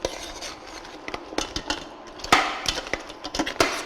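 Thai crab curry is stirred in a pot, with scattered clinks and scrapes of a utensil against the pot, irregular and close, some sharper knocks among softer taps, with no talking.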